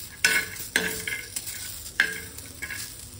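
Tomato skins and cashews sauté in a hot pan over a soft sizzle, with several sharp spoon scrapes and stirring clatters at irregular intervals, close and without talk.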